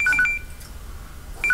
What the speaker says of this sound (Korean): 편안한 시간을 보내고 있는 이때 울리는 벨소리